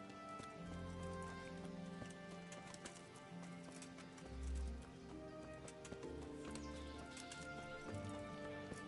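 In the medieval role-playing game Kingdom Come: Deliverance, a horse's hooves clip-clop in a steady rhythmic gait, fairly faint and mixed under ambient game music and environmental sound, with a soft snort or whinny midway.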